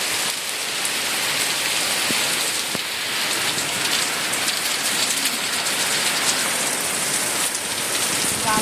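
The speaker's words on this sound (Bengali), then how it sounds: "দেখো কি বৃষ্টি সামনে তো জল জমে গেছে কত" Heavy rain pours down outdoors with water pooling in front, a dense, loud, continuous hiss of drops striking surfaces that stays even throughout with no talk.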